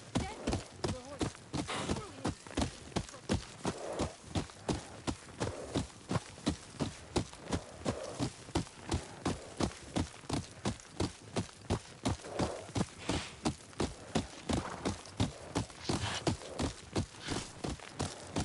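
Horse hooves clip-clop in a steady, even walking rhythm, about two beats per second, close and clear from start to finish with nothing else over them.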